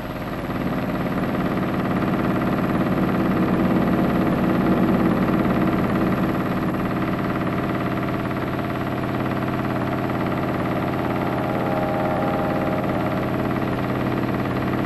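Il-2 attack aircraft piston engine warming up at around 1200-1250 rpm, a loud, steady low droning rumble that holds constant and unbroken throughout, with no voices over it.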